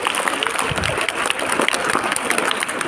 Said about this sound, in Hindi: तो दोनों बच्चों के लिए आप लोग जोरदार तालियां बजाएंगे।